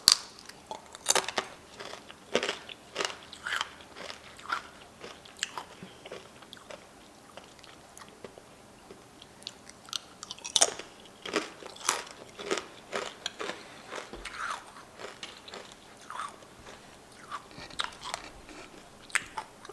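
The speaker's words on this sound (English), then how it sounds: "It's nice and crunchy." Crunchy dalgona honeycomb candy with a caramelized sweet glaze, Korean street candy, being bitten and chewed up close, with repeated sharp crunches and crackles coming in bursts over the whole stretch and no talking.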